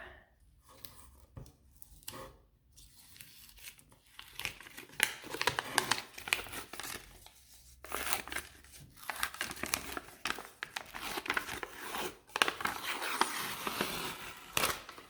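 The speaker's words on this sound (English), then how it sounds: "what we'll do is start to peel this off" Adhesive backing being peeled off a Halloween ghost sign decal. Close, faint crinkling and crackling of plastic film arrives in uneven bursts, with short pauses and no talking.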